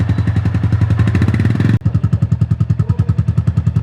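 A Royal Enfield Goan Classic 350 single-cylinder motorcycle engine thumps at idle, loud and close, with a rapid steady beat that briefly stumbles and then settles into a slightly slower, even pulse.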